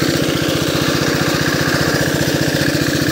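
A 4 HP diesel engine driving an irrigation water pump with a 3.5-inch delivery outlet, lifting water for a wheat field, runs steadily and loud nearby with a fast, even low thumping rhythm and no talk.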